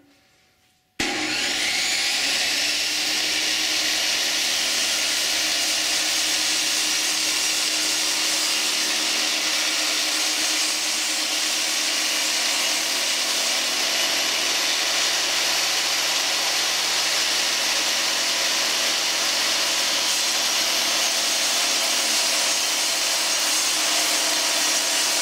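A power saw runs loudly and steadily for over twenty seconds while cutting a thin workpiece for a stepper motor collet, a dense, unbroken whine with no voices.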